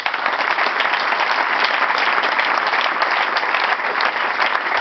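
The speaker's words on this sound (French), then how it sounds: "On va acclamer pour lui." A church congregation breaks into loud, sustained applause, a dense wash of many hands clapping evenly throughout, with no break or fade.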